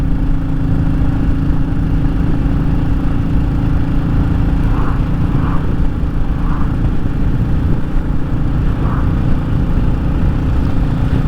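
A Royal Enfield Classic 350 single-cylinder motorcycle cruises in top gear at about 50 mph and 3,500 revs on country lanes in Powys, a steady loud engine drone with wind roar throughout.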